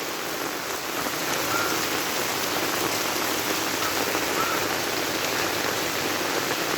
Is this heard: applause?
no